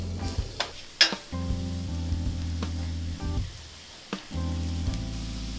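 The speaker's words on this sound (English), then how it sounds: "Add garlic and ginger and stir until brown for about 1 minute." Garlic and ginger sizzle steadily in avocado oil in a pan, with a few sharp clinks and scrapes of a utensil stirring them. Nearby and moderately loud, with no one speaking.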